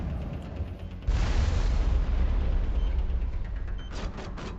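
Grenade explosions in the Mass Effect 1 video game, a sudden loud broadband blast near the one-second mark followed by a sustained rumbling roar, with softer bursts and pops toward the end.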